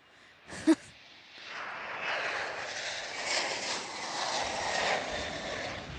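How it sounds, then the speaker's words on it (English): A United Airlines Boeing 737-900ER jet bound for Boston roars steadily at an airport, a broad engine rumble that builds and holds after a brief sharp thump near the start. "Next up, we have a United 900ER, 737-900ER to Boston, United Airlines 2237"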